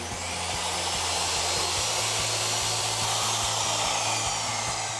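A miter saw cuts an angled piece from a wooden board, its motor holding a loud, steady, close whine for the full few seconds.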